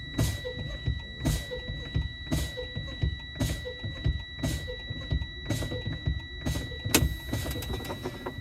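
Truck air brakes fanned down in the cab: the brake pedal is pumped over and over, each press releasing a sharp hiss of air in a regular rhythm, over a steady high warning tone.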